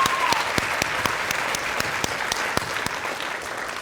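Sustained applause from an audience at an evening teacher-of-the-year reception, steady dense clapping with a few sharper individual claps standing out, filling the whole stretch without talk.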